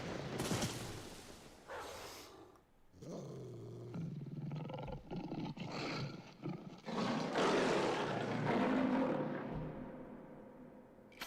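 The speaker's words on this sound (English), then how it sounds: "Yep, that's a tiger roar." A tiger roars again and again in a video game, deep snarling growls and full-throated roars rising and falling over about eleven seconds, loud and close with short pauses between outbursts.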